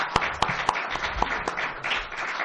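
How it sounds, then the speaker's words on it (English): Scattered audience applause after a city council candidate forum in Clearlake, with a few sharp individual claps over a soft, uneven wash of clapping, moderate and fairly close. "let's give everybody a round of applause"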